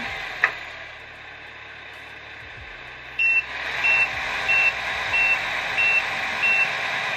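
Electronic reversing beeps repeat at an even pace over a low engine hum, an RC truck's Tamiya MFC-03 sound module effect, starting after a brief click.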